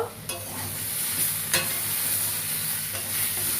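Tomatoes sauté in a pan for a Bengali crab curry with potato and pumpkin, giving a constant close sizzle with brief scraping stirs now and then.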